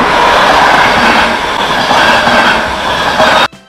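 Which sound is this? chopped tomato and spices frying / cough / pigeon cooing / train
train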